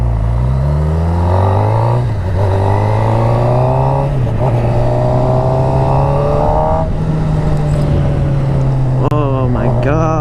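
A motorcycle ridden on the road in winter, its engine droning loud and close with pitch climbing through gears, dropping at shifts around two, four and seven seconds, then revving up again, under wind rush.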